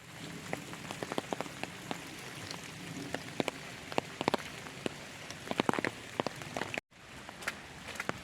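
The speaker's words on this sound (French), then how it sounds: "Il pleut, il mouille" Rain falls steadily on the Camino del Norte between St Jean de Luz and Bilbao, a dense continuous patter with scattered louder drops hitting nearby surfaces, broken by a brief cut near the end.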